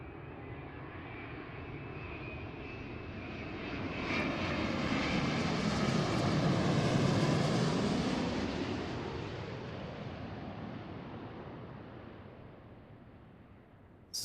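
At Seattle airport a Boeing 787 with high-bypass GE engines comes in to land, its jet roar building smoothly to a broad peak and then fading away, heard alone from nearby.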